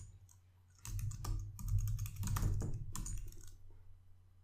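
Keys clatter on a computer keyboard as a command is typed into a Linux terminal, three quick close bursts of clicks separated by brief pauses, with no talking.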